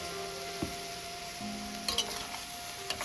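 Bitter melon and chicken strips sizzle softly in a pan as they are stir-fried, with a few scattered scrapes and light clinks of the utensil over a low, steady hiss.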